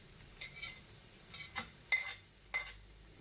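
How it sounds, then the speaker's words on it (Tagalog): Garlic and ginger sauté in a clay pot, giving a few short, soft bursts of sizzling and stirring scrapes over a quiet background. "Igisa lang natin guys hanggang mag-aroma."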